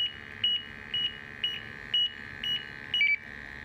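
An MSA Altair 5 handheld gas monitor alarm, not yet zeroed, beeps in short double bursts at a steady rhythm, about twice per second, close by and fairly loud, with no talking.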